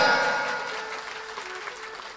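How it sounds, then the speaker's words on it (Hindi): A crowd at a religious storytelling gathering honouring a saint applauds heartily; the clapping starts loud and then thins and fades over about two seconds. "एक बार उनके लिए जोरदार तालियां"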